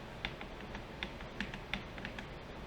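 Typing on a computer keyboard, a handful of soft, irregular clicks at close range over faint background hiss, no talking.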